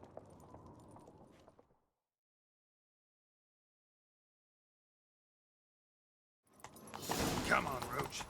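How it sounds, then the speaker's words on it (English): Horses galloping in pursuit in The Witcher 3, loud rapid hoofbeats bursting in near the end after a long silence, with a murmur of talk at the start. "Grab a horse, we'll chase him down."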